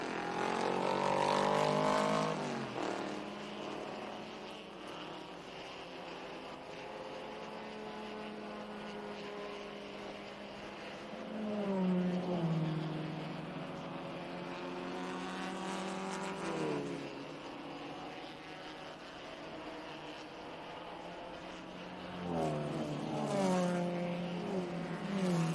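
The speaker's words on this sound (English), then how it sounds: "These cars all running in close formation." Formula First race cars running in close formation on a road course, engines whining past in repeated rising and falling passes of varying loudness over a constant background roar.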